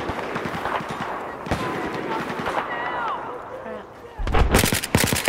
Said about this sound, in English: Somebody's shooting at me, though.